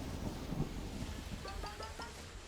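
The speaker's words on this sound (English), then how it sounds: "I nearly got struck by lightning and stuff." Rumbling thunder with a crackle from a lightning strike in A Hat in Time, a low continuous roll under a short rising chirpy game sound effect near the end.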